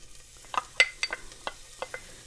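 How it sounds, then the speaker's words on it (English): Sliced onion added to hot olive oil for Jamaican coconut rice, quiet crackling pops and stirring scrapes over a faint steady sizzle, no talk. "Our oil has heated up nicely now, so we are going to add our sliced onion."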